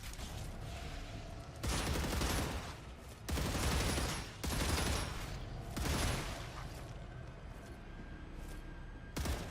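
Gunfire bursts roar in the shooter game Star Rupture, four or five loud, sustained volleys of a second or so each, separated by brief lulls over a steady low background.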